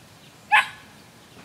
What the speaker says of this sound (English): the dog behind me next door is barking